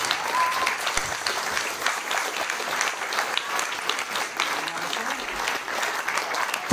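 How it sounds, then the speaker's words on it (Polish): Audience applause at a 2023 carol concert in the Człuchów municipal culture centre, steady dense clapping from a large crowd throughout, with faint voices mixed in. "Jeśli jest, to zabijcie dla niej brawa też."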